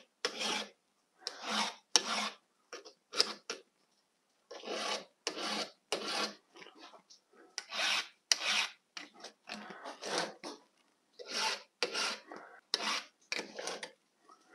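A file rasps across the rakers of a chainsaw chain in short, even strokes, grouped in quick bursts separated by brief pauses, close and clear with no talking.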